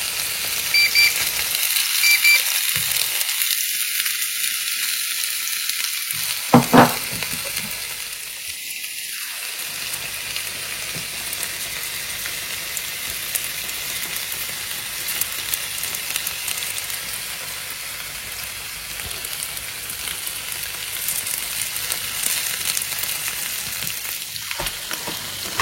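Salmon sizzles steadily as it grills in a Cookeo Touch multicooker. There is a loud, continuous frying hiss, broken once or twice by brief clinks and faint beeps.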